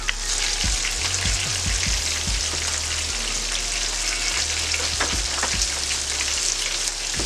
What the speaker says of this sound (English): It's usually going to take about 5 minutes per side, maybe 6. Nice golden brown.